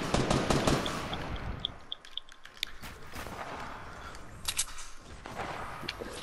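Gunfire in the video game Fortnite, with shotgun blasts among repeated sharp shots that come and go over a noisy game mix, some bursts loud and close, others fainter.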